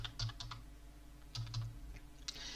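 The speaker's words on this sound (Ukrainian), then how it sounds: "І натискаю Enter." Keys tapped on a computer keyboard, a few light clicks in two short bursts with a final sharper press, close and quiet, no talk.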